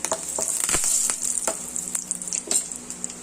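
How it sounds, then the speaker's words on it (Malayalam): Mustard seeds and dried red chillies fry in three-quarters of a tablespoon of coconut oil, a loud, close, continuous sizzle with scattered crackling pops and a few sharp spits, no voices. "മുക്കാൽ ടേബിൾ സ്പൂൺ വെളിച്ചെണ്ണ ഒഴിച്ചു കടുക് പൊട്ടി അതിലേക്ക് വറ്റൽമുളക് കൂടെ വറ്റൽമുളക് കൂടിയിട്ട്"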